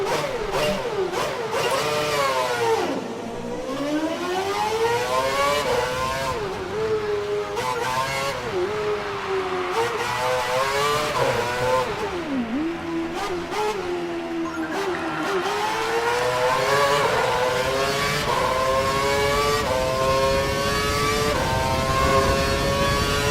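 An F1 race car in F1 2012 screams continuously through upshifts and downshifts, its high-pitched engine note rising, dipping and climbing again, close and loud throughout with no voices.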